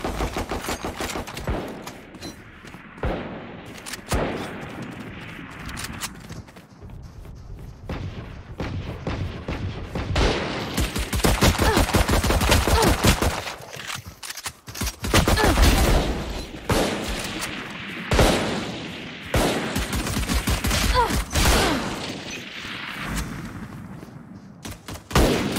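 Classic pistol fire during a Valorant match, with loud, rapid shots cracking in dense bursts and short pauses between volleys, and barely any voice.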